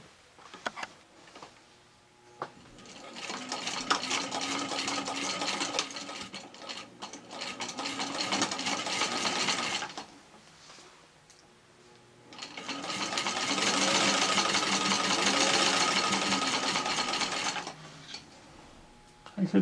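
A Singer Model 15-91 sewing machine stitches a patchwork flat cap in two close, steady runs separated by a quiet pause, with faint handling sounds at the start and end.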